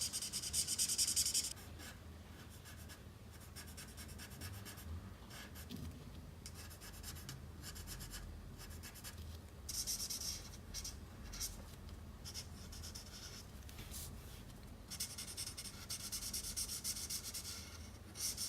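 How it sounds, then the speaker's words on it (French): Colored pencil shading on paper, a soft continuous scratchy rubbing with bursts of brisker strokes, close and quiet, no talking. "on va aussi colorier notre ceinture"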